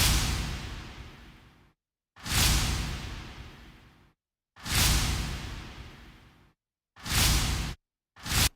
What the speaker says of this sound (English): These whooshes are also from Keep Forest.